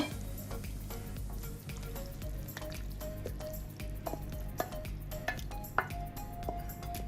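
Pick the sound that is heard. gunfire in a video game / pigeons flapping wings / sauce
sauce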